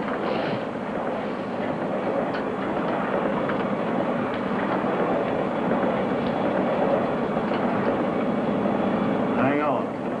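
A train in a 1973 film rumbles steadily along the rails, with a dense, continuous clatter and roar that stays loud and close throughout.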